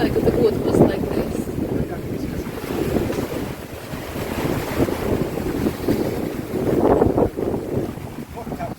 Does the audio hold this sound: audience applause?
no